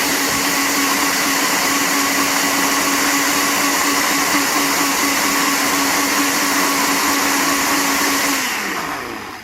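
A blender gives gin and mint sauce one last whiz, a loud, steady whirring that runs for several seconds and then winds down as the motor stops.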